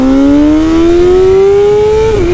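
A Kawasaki Ninja ZX-636 motorcycle pulls away steadily in first gear, its pitch climbing smoothly for about two seconds before dropping as the gear changes. Loud and close.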